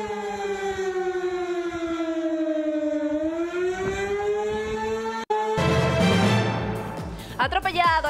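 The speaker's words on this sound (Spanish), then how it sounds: "Así sonaron las alarmas." Civil defense sirens in Colorado wail a tornado warning, a loud sustained tone slowly falling in pitch, then a burst of broadband noise and rising tones near the end, with voices faintly under it.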